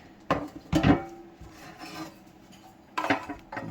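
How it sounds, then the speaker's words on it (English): Plastic housing of an Xbox One S being fitted back over the console, giving a few sharp close clicks and rubbing scrapes, with quieter handling noise between the louder bursts. "And now I'm going to put it back in the casing"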